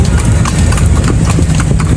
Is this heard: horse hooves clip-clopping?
yes